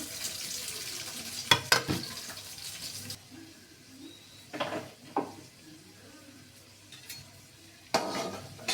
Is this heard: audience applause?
no